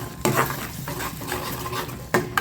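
A steady bubbling sizzle from chutney simmering in a pan, close and fairly loud, with a few sharper clinks from a utensil.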